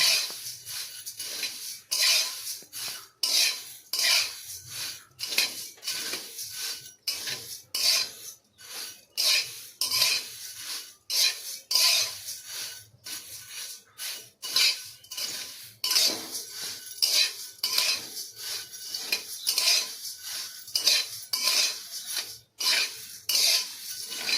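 Puffed rice being stirred and dry-roasted in a karai with a utensil, a close, steady run of raspy scraping and rustling strokes repeating in a quick rhythm, with no voices.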